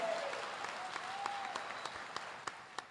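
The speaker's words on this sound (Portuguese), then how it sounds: "Pode aplaudir." Light applause from a church audience during a Portuguese-language sermon, a thin patter of scattered claps, fairly quiet and brief.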